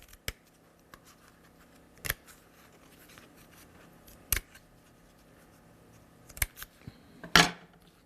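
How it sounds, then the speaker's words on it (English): Scissors make a slight snip into die-cut craft paper, a few sharp, close, isolated cuts spread over several seconds, the last one a longer crunchy slice, against a quiet room with no talking. "I'll just get my scissors in now. I'm just going to make a slight crack cut there"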